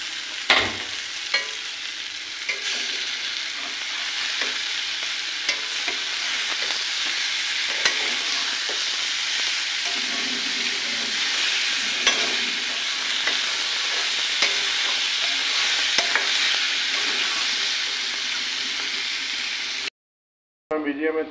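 Boiled taro stolons frying in a pan after being poured in, a steady close sizzle with frequent stirring scrapes and light clatter, continuous until a brief cut near the end, no voices.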